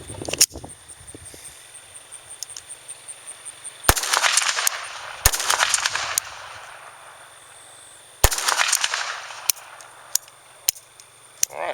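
Sharp gunshots from a MAB model GZ .32 ACP pistol crack out singly and in quick pairs at irregular intervals, loud and close, with faint outdoor ambience between shots and no talking.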